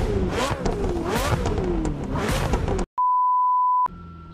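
A McLaren 765LT in the racing game The Crew 2 revs hard close up, with two rising and falling engine swells. The engine then cuts off and a steady electronic beep tone sounds.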